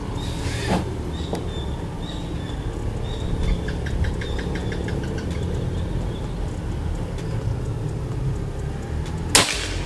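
A locally made PCP air rifle fires two sharp, loud cracks, one just after the start and another near the end, over a steady outdoor background hum with faint ticking sounds between them.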